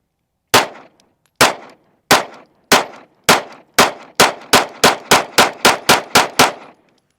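Kimber CDS9 9mm pistol firing SuperVel 115 grain rounds from a 15-round magazine, about fourteen sharp, loud shots in a steady string that speeds up toward the end, each with a short ringing decay and no talking.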